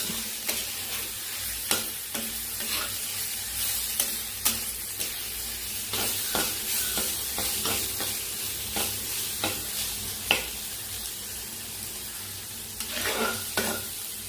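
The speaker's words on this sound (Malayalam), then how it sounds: "നമുക്ക് എല്ലാം കൂടി അങ്ങോട്ട് ഇളക്കിയാൽ മതി കേട്ടോ" Buffalo beef curry with coconut pieces is stirred as it fries in a pan, steady sizzling with repeated scraping strokes of the spoon, close and continuous without talk.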